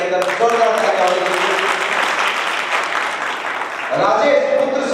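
Applause fills a prize-giving ceremony honouring student achievers in Bikaner, a dense steady wash of clapping from a large crowd lasting the whole moment, with a voice speaking over it near the start and again at the end.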